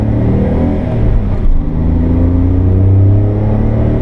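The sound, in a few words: 1991 Honda Acty kei van engine accelerating uphill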